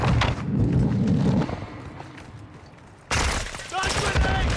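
Gunfire and bursts in a Call of Duty DMZ firefight, with heavy thumping shots early and another loud stretch near the end, under shouted, urgent voices.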